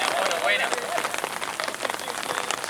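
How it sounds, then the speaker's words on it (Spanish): Rain falls steadily on an outdoor football pitch during a lower-division amateur league match, a continuous hiss of drops with faint voices of people talking nearby. "Está lloviendo normal"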